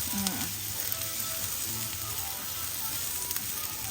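Chopped garlic and onion fry in hot oil in a pan, giving a steady, dense sizzle that stays loud and even throughout with no talking.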